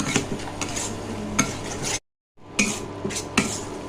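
Spice paste with turmeric and salt stir-fried in a pan, with repeated scraping and knocking of a spatula against metal over a low sizzle, broken by a brief gap of silence before the stirring resumes.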